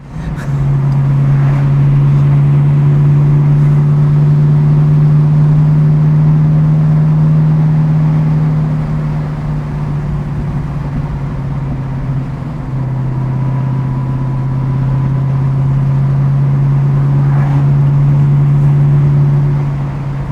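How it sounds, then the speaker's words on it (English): A 1967 Pontiac Firebird V8 runs steadily on its first drive, a loud, close, continuous engine drone whose pitch dips briefly mid-way and then settles back, with no talking over it. "Motor's running really strong"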